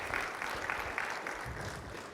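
An audience at a talk gives a short round of applause and cheers for the speaker Rahel, a steady, moderately loud patter of clapping throughout.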